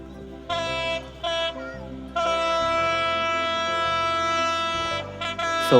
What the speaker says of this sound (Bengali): তো কড়া হর্ন দিয়ে কক্সবাজার এক্সপ্রেস আসতেছে